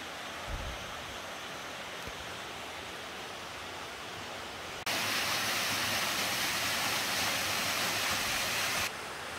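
Rushing water of Huibang waterfall on Sobaeksan mountain in winter, a steady broad roar that suddenly grows louder and brighter midway, then drops back near the end.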